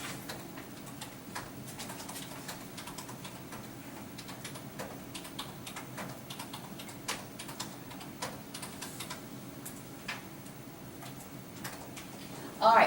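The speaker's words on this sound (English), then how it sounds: "Now I'm going to type in my IQs." Scattered light keystrokes tap at a computer keyboard while data values are entered, quiet and irregular against a faint room background.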